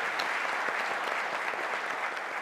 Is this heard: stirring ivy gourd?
no